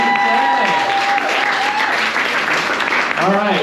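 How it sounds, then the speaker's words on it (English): Audience applause at a New Orleans poetry festival's local poets night, steady clapping mixed with crowd noise and a voice talking over it. "Keep the applause going."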